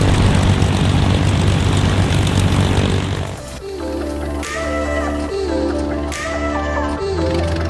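A LongEZ aerobatic aircraft's propeller engine cranks and catches partway through, settling into a steady close rumble, with broadband wind or engine noise before it.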